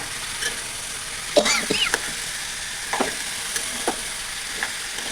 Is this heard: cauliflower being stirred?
yes